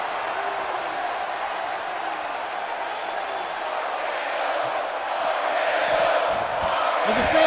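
Arena crowd in the WWE 2K18 wrestling game cheers steadily throughout, a broad continuous roar that swells slightly louder toward the end, with faint commentary mixed underneath.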